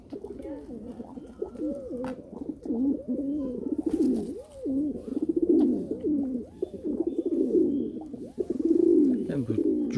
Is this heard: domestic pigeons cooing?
yes